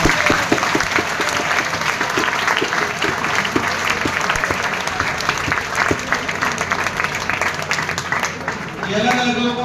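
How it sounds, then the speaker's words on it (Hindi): An audience claps loudly and continuously at a lively talk, a dense sustained patter of many hands that tails off near the end, with a voice speaking over it. "अपने लिए जोरदार ताली बजाओ"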